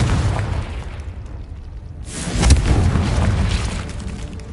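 Fiery blast from the Confringo spell in Hogwarts Legacy inside a cave: a sharp burst partway through followed by a sustained crackling roar that slowly fades, on top of an ongoing low rumble.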